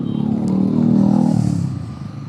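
Motorcycles of a biker gang from Chandigarh rumble past on a night ride in Uttarakhand near Kempty Falls, a loud engine drone that swells and then fades as they go by.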